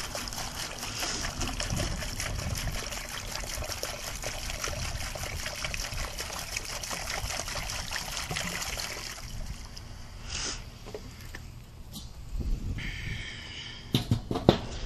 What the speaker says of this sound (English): we pour that down into our pineapple basil mixture